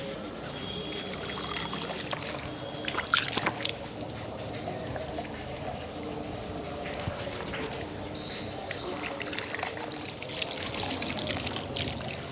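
Water pours and trickles steadily while a face and beard are washed during wudu ablution, with soft splashes throughout and someone talking over it.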